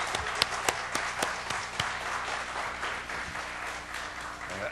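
A church congregation at a fathers' prayer meeting applauds a men's vocal ensemble and the teachers, with a steady burst of clapping and a few sharper individual claps standing out, and no talk over it.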